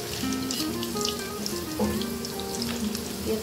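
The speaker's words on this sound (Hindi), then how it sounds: "इसे मीडियम फ्लेम पे ही पकाना है, फ्राई कर लेना है ऐसे।" Dahi vada lentil fritters frying in oil over a medium flame, a steady close crackle and bubbling sizzle with light popping, unbroken from start to end and no talk.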